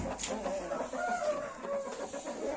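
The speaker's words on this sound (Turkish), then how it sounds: "Ufak ufak bir horoz. Küçük bir horoz." A small Turkish rooster, about 2.2 kilograms, gives a run of soft close clucks and throaty calls, with a voice faintly underneath.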